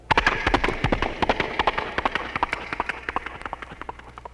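A voice imitates galloping horses with rapid rhythmic clopping beats made in the throat, steady and close, running for several seconds.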